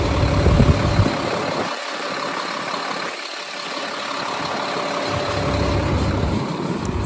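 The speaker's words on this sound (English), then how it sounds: "Certainly the engine sounds healthy" A 1998 Chevrolet C6500 diesel flatbed truck idles nearby, a steady low engine throb with brief dips and recoveries in its rumble.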